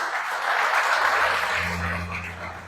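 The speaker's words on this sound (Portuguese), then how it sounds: "Dê um aplauso ao Espírito Santo." Applause from a church congregation during a sermon, a broad steady patter of clapping across the whole stretch, with a low organ or keyboard tone entering underneath partway through.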